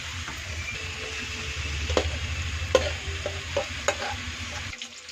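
Lote fish frying in a turmeric, chilli powder and green chilli spice paste, a steady low sizzle with scraping stirs and a few sharp clinks of a spatula against the pan.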